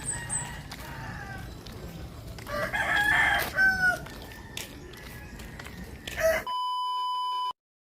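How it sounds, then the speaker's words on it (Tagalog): Roosters crow several times against a busy outdoor countryside background, followed by a steady electronic beeping tone near the end. "Nami kasi paminaw probinsya no kay mga tuktugaw kog manok ba."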